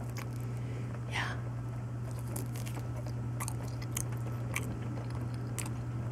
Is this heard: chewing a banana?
yes